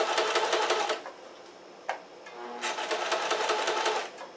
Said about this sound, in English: Looks like I fixed my sewing machine.